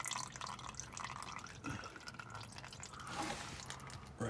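Engine oil from a 2000 Ford F-150 drains into a reservoir during an oil change, a steady faint trickle and drip running continuously, with a slightly stronger splash toward the end.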